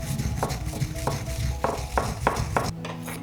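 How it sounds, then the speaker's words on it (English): Rendang ingredients for chicken rendang are ground in a mortar with a circular motion, giving close, repeated knocking and scraping strokes at an uneven rhythm. "The tip of using this mortar is to grind all the ingredients in a circular motion."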